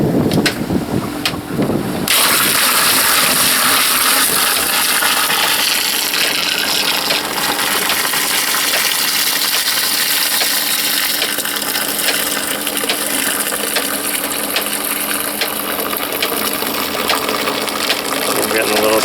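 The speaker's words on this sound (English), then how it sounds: "we pour slowly because there'll be sediment down at the bottom" Compost tea poured slowly from a container, a loud, continuous broadband splashing and trickling close by that holds steady for many seconds after a brief mechanical rattle at the start.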